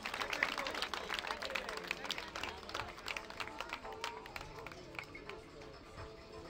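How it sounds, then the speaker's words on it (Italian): A crowd at a fight event in Naples applauds both fighters with steady, rapid clapping from many hands, full at first and slowly fading, while a voice talks over the clapping. "Un altro applauso a entrambi, bravo Danilo, bravi entrambi ragazzi"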